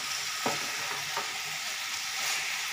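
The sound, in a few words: stirring jackfruit curry with potatoes in a pan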